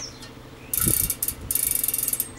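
Campagnolo Athena bicycle hub freewheel ratcheting as the wheel spins: quick bursts of close, crisp metallic clicking with a brief gap in between, then a longer run of rapid clicks with no one talking.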